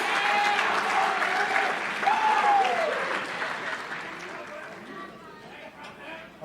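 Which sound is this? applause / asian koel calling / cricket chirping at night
applause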